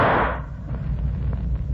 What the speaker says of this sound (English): the bullet hit a tree 10 feet away